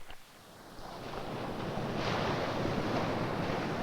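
Waves rolling in and breaking on a lake shore, a steady rushing wash of water that swells and stays loud and broad, with some wind over the microphone and no voices.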